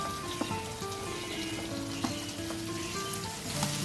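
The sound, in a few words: raw banana pieces and green beans sizzling in oil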